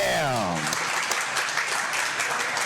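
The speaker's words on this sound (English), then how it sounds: "give these guys a round of applause" Loud, sustained crowd applause and cheering, dense clapping filling the whole stretch, with a brief voice at the start.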